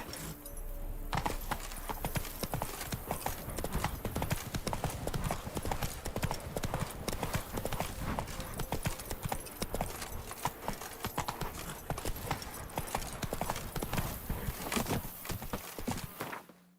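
A horse's hooves clip-clop at a steady, brisk rhythm in The Witcher 3: Wild Hunt, dense and continuous for the whole stretch over game ambience, with a faint voice at the start.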